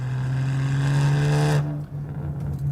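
A BMW 135i's twin-turbo N54 inline-six revs steadily and loudly up close, a strong droning hum that cuts off abruptly partway through, leaving a lower idle rumble.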